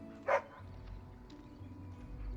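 A single short dog bark from a puppy in Dragon Age Origins, clear but fairly quiet over a low rumbling background hum.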